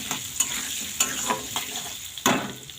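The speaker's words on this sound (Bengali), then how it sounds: "এবার আলুগুলোকে ভেজে নেবো।" Cubed potatoes seasoned with salt and turmeric fry in a pan under a steady low sizzle, broken by several sharp scraping bursts as a spoon stirs them, with no voices.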